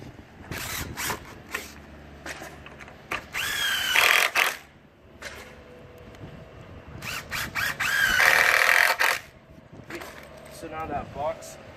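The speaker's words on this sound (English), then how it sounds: "Screw it into the Z-brace with 2 screws on the top. And then 2 screws on the bottom." Power drill driving screws into the Z-brace of a wooden gate, several short whirring bursts in a row, close and fairly loud, with someone talking between and over them.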